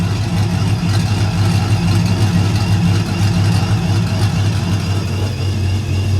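A heavy truck engine idles steadily with its exhaust cutout closed, a deep, even rumble, loud and close, holding constant throughout without revving.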